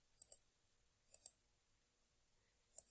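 Calculator keypad being typed on: three pairs of faint, crisp button clicks spaced across a few seconds in near silence.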